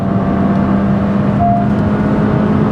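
Honda City petrol CVT engine revving hard near 6,500 RPM while upshifting, a loud steady drone from inside the car with a brief tonal shift partway through.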